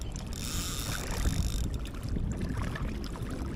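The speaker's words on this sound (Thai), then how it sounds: "เรือดิมันจะมาเสียงมันจะดัง" A boat motor drones past on the Chao Phraya River by a dam in Pa Mok, Ang Thong, Thailand, a rushing, washing noise rising and easing with wind buffeting the microphone.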